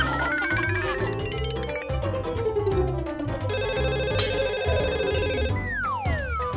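A cartoon-style telephone ringtone plays amid a busy musical score in a children's Halloween story, electronic ringing tones standing out over the loud background music, with no talking.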